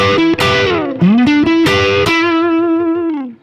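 Loud distorted electric guitar plays short lead phrases with bends and slides, ending on a sustained note that fades out.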